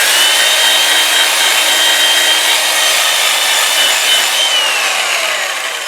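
A wooden bowl is hand sanded on its end grain, giving a steady, loud, hissing rasp of abrasive on wood that runs unbroken and fades slightly at the end, with no talking.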